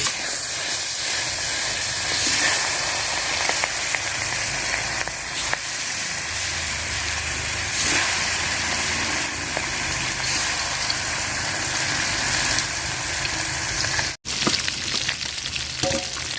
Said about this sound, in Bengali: মাছ ভাজা হয়ে গেছে তুলে নিলাম